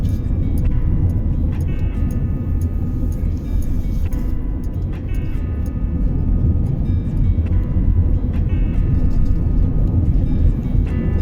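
A car rolls steadily through a state park gate, a continuous low engine and road rumble from inside the vehicle with a few faint clicks, while someone talks.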